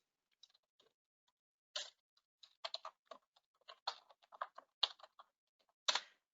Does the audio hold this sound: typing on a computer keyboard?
yes